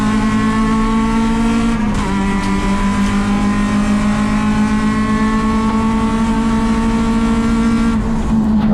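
A race car at Sonoma Raceway accelerating out of a corner in third gear, a loud, steady in-car engine drone climbing slightly in pitch, with one brief dip partway through.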